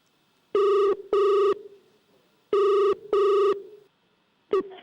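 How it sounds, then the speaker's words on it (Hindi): A telephone rings for a live phone call on a comedy stage show: two loud double-burst electronic rings, a pause, then a third ring that cuts off abruptly as the line is picked up. "वो करेंगे एक live phone call struggling actress सुरीली को"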